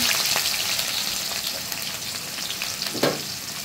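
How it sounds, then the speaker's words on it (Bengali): Chopped onion and whole cumin frying in oil in a pan, a dense close sizzle with a couple of stirring knocks, no voices. "দিয়ে আমি পেঁয়াজটা একটু লাল করে ভেজে নেব"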